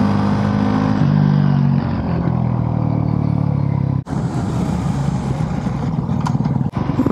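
A motorcycle engine rumbles steadily and close. It revs with a rising, droning tone early on, then settles into a rough running note. Two brief dropouts break the sound, and no one speaks.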